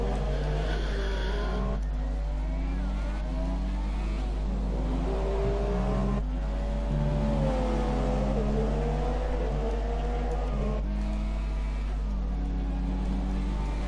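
A race car engine in a Formula 1 video game on the Singapore street circuit whines steadily, its pitch climbing and dropping through gear changes and corners, loud and continuous throughout.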